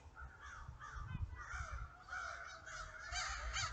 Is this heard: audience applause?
no